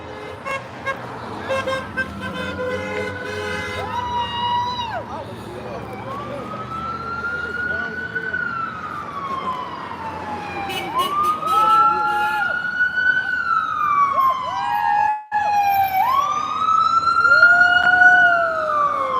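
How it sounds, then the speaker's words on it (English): An ambulance siren wails through repeated rising and falling sweeps on a city street in Windsor, growing louder and clearer as it passes close by, over low traffic noise. "Here comes the ambulance."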